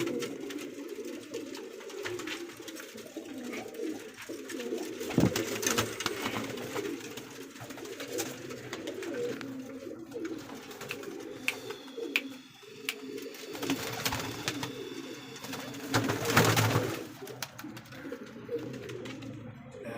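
Pigeons coo in soft, low, repeated phrases, several birds overlapping at moderate distance, with a few sharp clicks and flutters mixed in.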